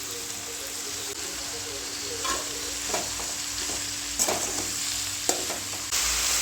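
Okra, tomato and green chilli sauté in a pan with a steady close sizzle, broken by the scrape and clink of stirring at uneven intervals, while a voice speaks faintly in the background.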